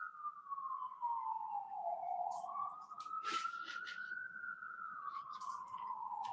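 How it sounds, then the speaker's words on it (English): An ambulance siren sweeps past in a long, steady wail that rises and falls, loud and continuous throughout, with faint background chatter. "There comes the ambulance."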